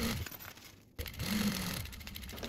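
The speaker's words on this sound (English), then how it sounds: "we're just gonna sew along this bottom edge" A sewing machine runs along the bottom edge of a backpack pocket, whirring close in two bursts separated by a brief pause.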